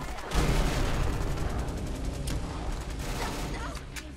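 A grenade blast and rolling gunfire in Fallout 4, loud and close, starting with a heavy boom and carrying on as a dense, sustained crackle of shots.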